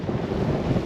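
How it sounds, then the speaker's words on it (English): Steady wind roars across the microphone aboard a sailboat sailing south at speed toward the Bahamas, a constant loud low rumble with faint water wash beneath and no voices. "It is windy!"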